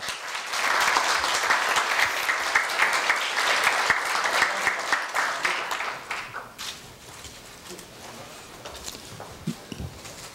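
Applause from an audience at a Korea University staff retirement ceremony during a medal presentation, a dense burst of clapping that swells loud and then gradually thins out and fades.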